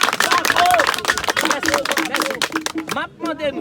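An audience claps and cheers for BSAP, a dense burst of applause mixed with crowd hubbub and voices, loud and close, easing slightly toward the end.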